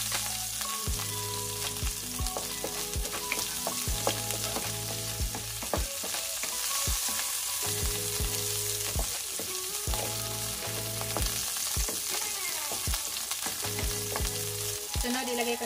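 Sliced onion frying in a hot pan, a dense steady sizzle with repeated scraping and stirring strokes of a utensil against the pan, close and continuous, no talking.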